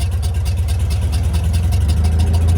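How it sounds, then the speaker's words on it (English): A 1979 Ford Mustang Indianapolis Pace Car with a 302 engine idles steadily and close by, a low, even rumble with a slight pulsing lope and no talking over it. "I don't want to kill the engine"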